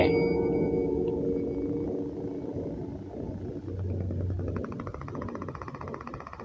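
Eerie, hollow Minecraft cave ambience from a mine, with a low rumble, faint droning tones and distant echoing hums. No voices.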